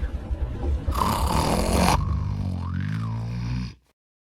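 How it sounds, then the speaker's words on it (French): A deep, rough snore rumbles steadily for several seconds, up close, with a harsh rasping middle before it cuts off into silence, aboard a Swiss train. "se réveille par ses propres ronflements"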